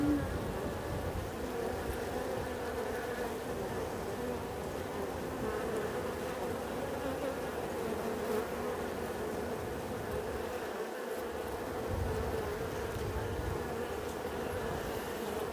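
Honey bees swarm around an open beehive where a beekeeper is working, their buzzing a steady, dense drone that holds at the same level throughout, with no voices over it.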